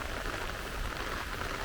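Steady rain falls on an airport strip in Montego Bay, a dense, even hiss of drops hitting surfaces, close and continuous with no talking.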